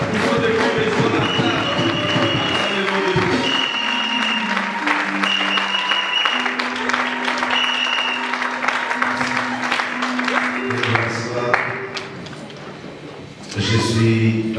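A church congregation applauds loudly at a seminar service, with sustained clapping mixed with music, background voices and tones, tapering off near the end before a final burst of sound.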